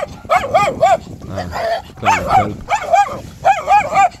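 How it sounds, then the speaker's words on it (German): A dog barks and yips in quick, high-pitched bursts up close, whining between barks, while a person shouts once. "Hör zu bellen, du Hund!"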